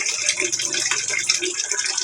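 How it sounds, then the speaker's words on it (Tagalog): Water gushes steadily from a tap for washing laundry, a close, continuous hissing flow with no pauses and no voices over it. "Ito yung tubig no."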